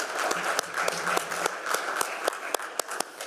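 Applause from delegates at a FIDE chess federation General Assembly, a steady patter of many hands clapping in a hall with a few sharper individual claps standing out.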